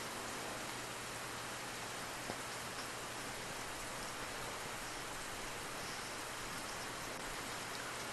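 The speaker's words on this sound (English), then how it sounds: "The rain's kind of coming right in on me." Rain in the survival video game Open Country, a steady, even hiss of falling rain that runs unbroken for about eight seconds, fairly quiet and with no voices over it.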